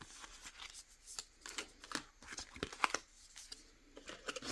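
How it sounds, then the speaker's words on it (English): Small red paper dividers for an advent calendar are folded by hand, making close, crisp rustles and sharp creasing snaps in an irregular rhythm. "just fold them like this"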